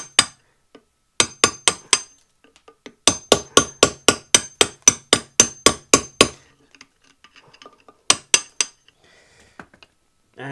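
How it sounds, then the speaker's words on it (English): A Wera Kraftform Kompakt PlumbKit tool knocks the corner off a concrete block in rapid sharp strikes, a quick burst of about ten blows with shorter groups before and after, close and crisp with no talk. "I'm going to try just taking the corner off of this concrete block"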